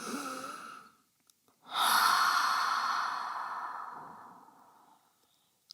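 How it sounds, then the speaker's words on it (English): One slow, deep breath close to the microphone during a yoga flow: a soft inhale, a brief pause, then a long, loud exhale that gradually fades away. "enjoy a nice deep inhale, nice deep exhale"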